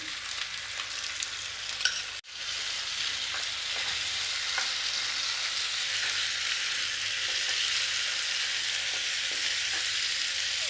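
Kashmiri chilli, poppy seed and cashew paste hits hot oil for a cauliflower rezala, giving a steady, close, broadband sizzle after a brief break, with faint stirring clicks and no talk.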